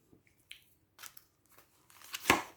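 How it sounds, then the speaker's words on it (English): Soft papery riffling and snapping of a very large deck of cards being shuffled, in scattered bursts that build to a louder flurry at the end. "I'm gonna shuffle this differently because this is a very big deck"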